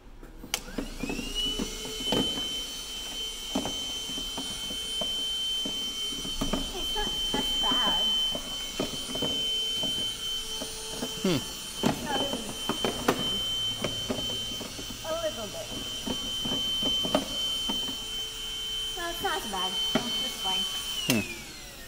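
Vacuum cleaner sucking dirt out of the air filter housing of a Ford Mustang EcoBoost, a steady high whine that runs through most of the stretch while people talk over it.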